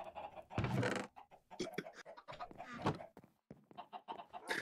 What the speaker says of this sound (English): I can't sample that because there's too much chicken noise in the background.